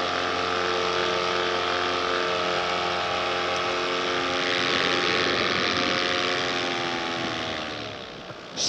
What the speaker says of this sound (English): I don't wanna spend too much time at full throttle on a brand new engine.